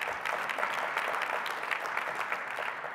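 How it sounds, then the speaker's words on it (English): An audience at a 2018 State of the County Address breaks into steady, full applause for youth scholarship achievements. Many hands clap in a dense, even roar that holds at a constant level, with no speech over it. "Yes, go ahead and clap for that."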